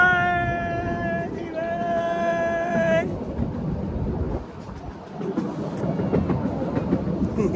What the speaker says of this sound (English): The train is going all over forest.